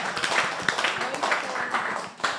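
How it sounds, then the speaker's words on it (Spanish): Audience applause during a talk on Judaism, a busy patter of clapping hands with voices calling out over it, fairly close and continuous for a couple of seconds. "Un aplauso."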